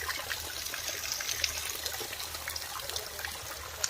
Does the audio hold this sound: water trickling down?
yes